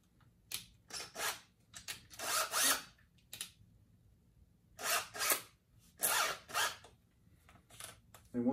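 A power drill fitted with a chimney cleaner adapter whirs in several short bursts separated by pauses, the motor spinning up and stopping repeatedly at close range.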